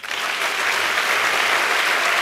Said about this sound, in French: Mesdames et messieurs, beaucoup d'applaudissements pour Charlotte Ntamack.